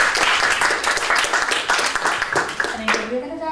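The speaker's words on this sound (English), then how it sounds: "Please give her a round of applause in advance for reading." Applause from the audience before a literary book reading: a burst of steady clapping that breaks off near the end as a voice begins to speak.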